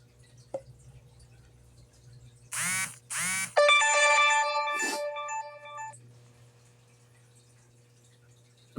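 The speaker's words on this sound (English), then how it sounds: "Pardon my dinging, because I don't know how to turn that off without it messing up my volume and stuff on my phone." A smartphone notification sound rings out once as a short series of bright, tonal dings lasting a few seconds, fairly close and clear over a quiet room with a low hum, and no talking.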